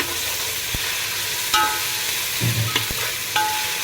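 Ginger garlic paste fries in a pan for chicken biryani, giving a steady, close sizzle broken by a few sharp clinks and scrapes of a stirring spoon.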